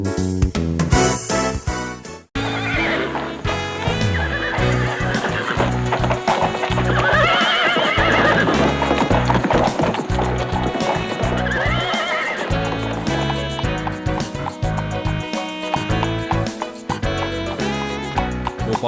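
A horse neighs in a loud, shrill whinny and its hooves beat out a quick, steady clip-clop, close up, mixed with a dense musical backdrop in an animated Hindi cartoon.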